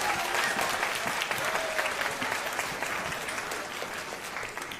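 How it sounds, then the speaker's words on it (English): An audience at an MLK oratory competition applauds judges and competitors returning to the stage, dense sustained clapping that is loud at first and eases slightly, with faint cheers and voices in the crowd. "Let's give them a round of applause."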